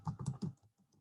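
Keyboard typing on a computer running Adobe Illustrator, three close clustered bursts of key clicks followed by a few fainter taps, no voices.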